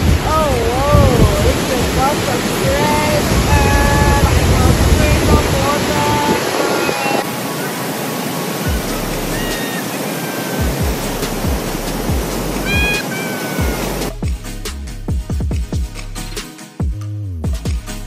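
Rushing water on a summer hike at a game lodge near Johannesburg, a loud, steady broadband roar that fills the whole clip, with a voice speaking over it early on and wind buffeting the microphone.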